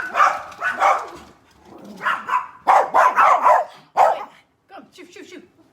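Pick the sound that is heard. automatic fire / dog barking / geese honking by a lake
dog barking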